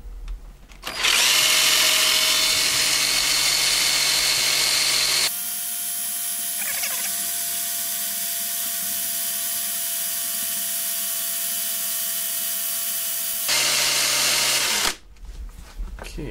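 An Emerson brushless DC (ECM) blower motor under repair spins up to a loud, steady whine with a high tonal hum, drops to a lower running level for several seconds, surges again, then winds down, close and with no talking.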